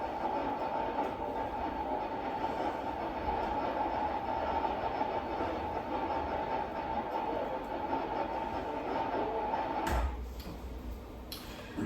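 Musicians play written-out distortions meant to imitate the noise of an old radio: a dense, continuous hiss and crackle with a steady hum, loud and unbroken, thinning abruptly near the end.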